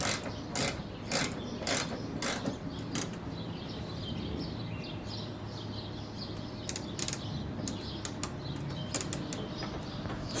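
A ratchet drives side screws into the A/C condenser of a 10th-generation Honda Civic, giving repeated short, close clicking bursts in uneven runs over a low background hum.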